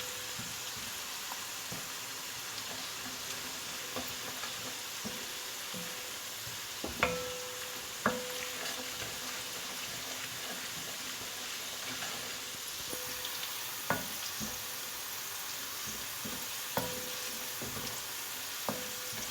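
Spices fry over a low flame in a pan for masala bhindi, giving a soft, steady sizzling hiss with occasional faint clicks of a stirring spoon.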